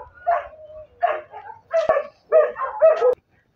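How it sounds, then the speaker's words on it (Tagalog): Several dogs bark in a rural farm setting, five or six loud, close barks in quick bursts with short yips between them, no talking. "Ay, may mga aso."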